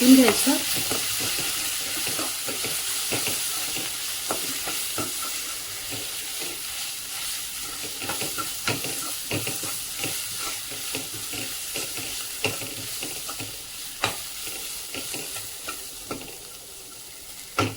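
Ground masala for a spicy katachi amti fries on a low gas flame, a steady soft sizzle running throughout with scattered light clicks and scrapes of a spoon stirring nearby.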